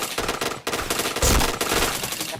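Gunfire in the video game Point Blank, with loud, rapid bursts of automatic shots firing in quick succession and a heavier blast near the middle.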